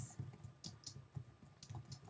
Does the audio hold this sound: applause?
no